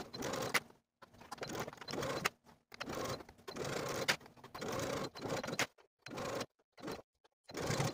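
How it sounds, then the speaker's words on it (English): A sewing machine stitches the neckline and interfaced neckband of a dress straight across, running in short bursts of rapid mechanical whirring separated by brief pauses. "Now we can stitch the neckline and the interfaced neckband straight across with a 5/8 inch seam allowance"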